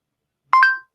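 A phone set off by a voice command sends dialing tones: two short, clear tone beeps close together, then silence.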